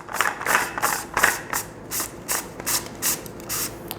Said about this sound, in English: put it into the blowtorch